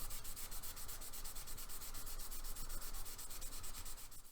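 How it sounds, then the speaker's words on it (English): Steady, rhythmic hand sanding of a Jaguar E-Type body panel with 600-grit, a fast back-and-forth scratchy rubbing, close up and continuous with no talking. "you can do this with a sanding sponge or even a sanding stick"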